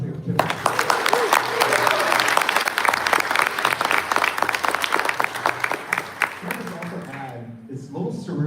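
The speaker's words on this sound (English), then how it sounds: "If you guys like the DC Multiverse line, then Jim Lee, do a round of applause here too." Sustained audience applause at the McFarlane Toys panel at New York Comic Con 2025, dense clapping from a large indoor crowd that swells, holds steady and fades near the end, with some voices mixed in.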